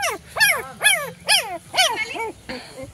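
A dog gives a run of about six sharp, yelping barks at a steady, even pace, close to the microphone and loud against a quiet background.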